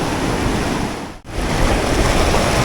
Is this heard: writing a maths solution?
no